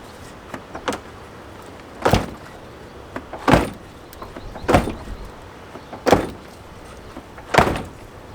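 Door of a Chevrolet Silverado pickup, rebuilt after a rollover, being worked with an adjustment tool: five sharp metallic thumps and slams spaced about every second and a half, with lighter clicks between them, close by and with no talking.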